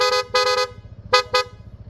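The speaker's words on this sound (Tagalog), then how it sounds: "Corsa horn version 3 po yan" A bright, close Corsa horn on a Honda ADV160 scooter honks in quick bursts: two short toots, a pause, then two more, over a faint low idle.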